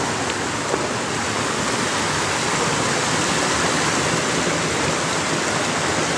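Creek water flowing at North Suck Creek near a swing bridge and pool, a steady broadband rush of running water, close and continuous, with no voices.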